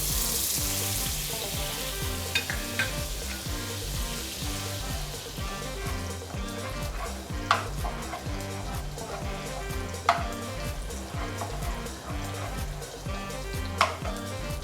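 Butter sizzles steadily in a hot wok, a constant crackling hiss broken by occasional sharp clinks of a utensil.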